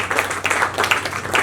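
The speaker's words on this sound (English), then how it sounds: "Please give him a round of applause." A conference audience at a financial market event claps in a brief burst of applause, many hands patting unevenly at moderate loudness.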